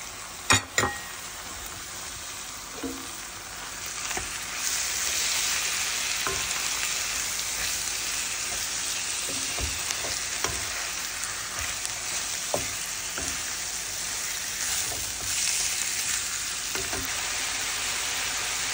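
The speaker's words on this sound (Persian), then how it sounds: "مرغمون که مقداری با ادویه تفت دادیم" Chicken pieces sizzle steadily in a pan with onion, turmeric, black pepper and garlic powder, and a spatula scrapes and clinks now and then as the mix is stirred, close and constant with nobody speaking.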